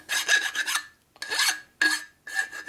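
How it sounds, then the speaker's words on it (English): A hand file rasps across the sharp edge of a machined 41mm motorcycle fork leg slider in four short, harsh strokes separated by brief pauses, close and loud. "This is a little sharp, so you got to file it, deburr it."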